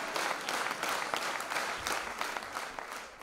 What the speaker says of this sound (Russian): Несмолкаемые овации, крики «Браво!»